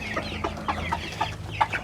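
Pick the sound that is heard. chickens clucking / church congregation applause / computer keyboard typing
chickens clucking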